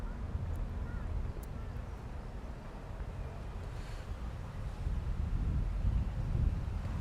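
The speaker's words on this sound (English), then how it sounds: "only now it started to get windy" Wind buffets a microphone outdoors in London, a steady low rumble that swells stronger toward the end, with faint speech buried beneath.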